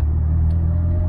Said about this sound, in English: I am driving a 91 BMW 325i